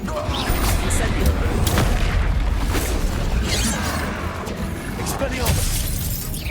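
Incendio spell cast in Hogwarts Legacy during a duel, a fiery whoosh and crackling burst amid rumbling booms and shattering impacts, loud and dense over roughly six seconds of combat.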